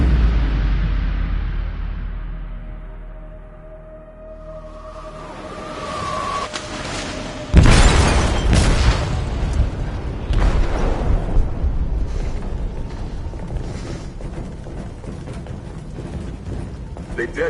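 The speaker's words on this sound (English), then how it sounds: "They detonated an explosive in the hold. The ship is sinking, sir." Video game explosion aboard a ship as it sinks, a deep rumble that swells into a sudden loud blast followed by sustained roaring and creaking mechanical noise, with faint voices in the background.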